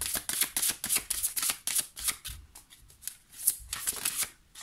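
Oracle cards from a metamorphosis deck being shuffled, a rapid run of crisp riffling flicks and soft slaps up close, then slower single card handling and a draw, with no talk.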